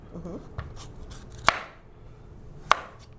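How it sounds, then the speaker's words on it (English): A chef's knife working around a halved fruit to peel it, with two sharp, distinct cutting knocks against a board amid faint scraping and low background noise. "So I have my knife here, and I just go around the outside and peel it"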